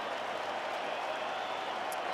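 Crowd at a Brewers–Dodgers playoff baseball game in the stadium, a dense, steady wash of distant cheering and clapping that holds evenly throughout.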